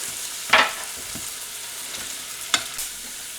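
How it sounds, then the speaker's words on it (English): Chopped onion sautés in a pan over medium heat with a soft steady sizzle, broken by a few distinct scraping stirs of the spoon. "we're going to saute that onion over medium heat just until it's all translucent"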